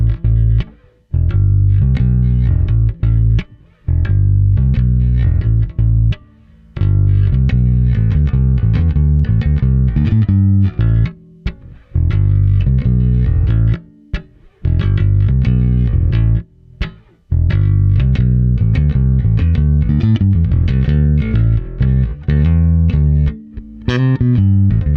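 Fender Custom Shop Empire 58 P bass played with the fingers at full volume and full tone, a steady run of round, punchy plucked notes, continuous and unaccompanied.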